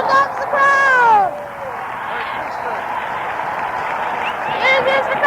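A basketball arena crowd roars as teams come out of the locker room, a broad wash of cheering, babble and applause with shrill whistles and whoops rising above it, loud at the start and swelling again near the end.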